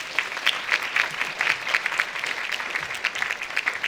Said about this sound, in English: If you will give the panelists another big round of applause.